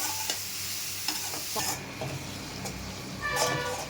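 Ingredients for Tamil-style chicken curry being stirred and sautéed in a hot pan, with a steady sizzle under repeated scraping and clattering strokes of a spoon, close up.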